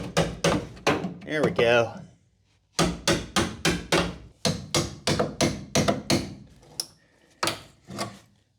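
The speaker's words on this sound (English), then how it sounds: "come through with my seam separator and just give this a nice little tappy tap" Sharp, evenly spaced metallic taps from a seam separator striking car body sheet metal during patch repair, ringing out a dozen or so times in a steady rhythm close by, after a brief spoken remark and a pause.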